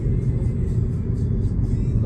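A car drives at about 20 mph through quiet UK city streets past houses and shops, its engine and road noise a steady, close, low rumble with no talking.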